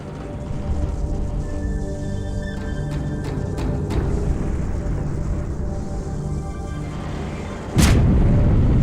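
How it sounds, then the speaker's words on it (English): A deep explosion booms from inside the ship Athens in the video game Halo 2, a sudden loud broadband blast near the end over a steady rumbling low drone. "That explosion came from inside the Athens."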